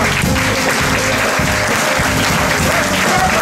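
A church congregation breaks into loud, dense applause as an offering of acclamation, continuous clapping filling the room, with faint voices mixed in.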